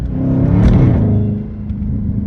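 A Hellcat engine swapped into a Dodge 392 Scat Pack roars with a whining supercharger intake rush that rises briefly then settles into a deep, steady rumble.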